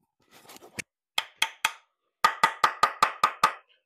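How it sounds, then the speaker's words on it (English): An awl scrapes waste out of a drilled dowel hole in wood, making a run of short, sharp scratching clicks in bursts, loud and close, with quiet gaps between. "I can make sure now that I get all the waste out of there. I find an awl helps"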